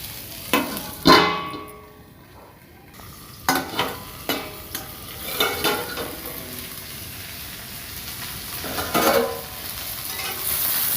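Kundru (tindora) bhujia being stirred and fried in a pan, with scattered scraping strokes of a spoon against the pan over a soft steady sizzle, close and fairly quiet with no talking.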